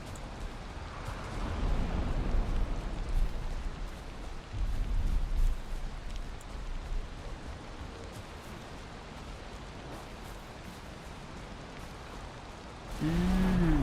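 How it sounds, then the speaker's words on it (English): Steady hiss of a heavy rainstorm in a video game fills the whole stretch, a continuous wash of falling rain that swells and eases, with a brief tonal game sound at the very end. "Whew, storms are loud."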